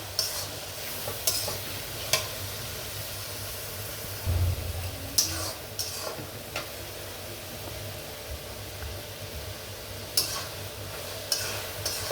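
Onions frying in a pan, a low steady sizzle punctuated every few seconds by sharp scraping strokes of a spatula, close but fairly quiet, with no voices.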